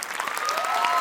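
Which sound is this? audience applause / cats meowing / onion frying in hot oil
audience applause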